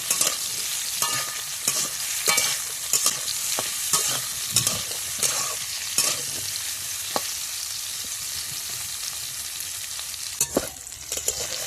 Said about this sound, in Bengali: এখানে আমার কাঁচকলাগুলো ভাজা হয়ে গেছে